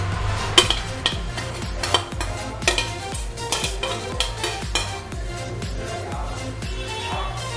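Fried onions being stirred and folded into chicken biryani in a pot, with repeated scraping and clinking of a spoon against cookware at a steady working rhythm, close and moderately loud.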